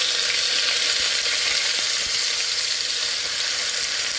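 Whole spices such as bay leaf and cinnamon frying in hot oil for biryani give a dense, loud, continuous sizzle, close up and unbroken, with a few faint knocks underneath.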